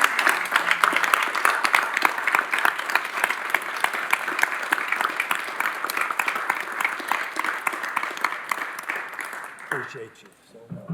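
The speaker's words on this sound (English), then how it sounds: "So let's give a round of applause to our former vice chair, Chris Hooten." A meeting audience gives sustained applause for a former vice chair, a dense wash of many hands that stays loud for about ten seconds and then fades away quickly.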